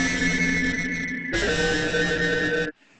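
A sample in the Independence software sampler with a distortion effect, a dense, buzzing sustained tone that steps up in brightness and loudness partway through, then cuts off abruptly to near silence.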